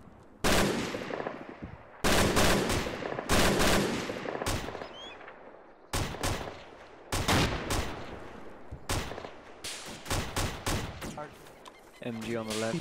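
Bursts of machine-gun fire in a video game, loud and close, coming in several separate volleys with short gaps of quiet between them.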